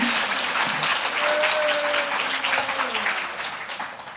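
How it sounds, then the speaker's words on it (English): An audience claps loudly and continuously, with a brief whoop or voice rising over the clapping partway through before the sound gradually tapers off. "Victoria, please give him a clap."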